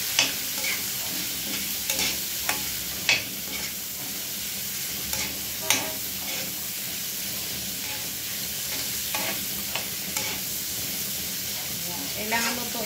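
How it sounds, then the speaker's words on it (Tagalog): Shrimp and vegetables stir-fry in a pan with a constant loud sizzle, broken by scattered clicks and scrapes of stirring. "Kailangan lutuin muna natin yung hipon."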